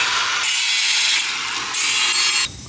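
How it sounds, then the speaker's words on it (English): A power tool cuts through a metal tension rod on a drift racecar built around a streetbike engine, giving a loud, harsh grinding rasp that runs close and continuous and changes tone slightly before cutting off near the end. "Now I'm going to cut the tension rod"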